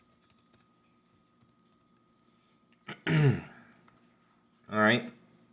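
Faint, scattered keystrokes as a full name is typed on a computer keyboard, soft and close for about three seconds, followed by two short, louder vocal sounds.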